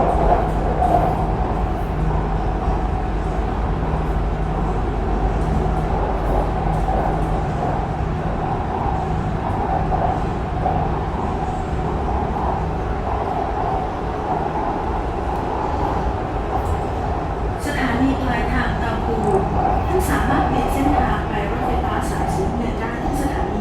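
A Bangkok MRT Purple Line metro train runs along its track, a steady, loud rumble with a constant mechanical hum and light rail clatter that brightens toward the end.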